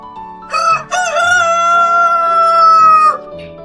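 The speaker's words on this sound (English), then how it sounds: "This is a rooster, and its sound" A rooster crows loudly and close by, a single long cock-a-doodle-doo that rises, holds a strained note and then drops off, over a soft background tone.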